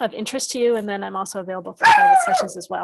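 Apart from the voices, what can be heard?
dog barking in the background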